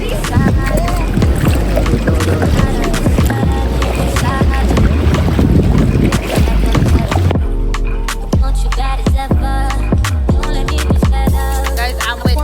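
Kayak paddling on open water in Jamaica, with splashing strokes and boat noise close to the microphone, continuous and fairly loud, with voices talking over parts of it.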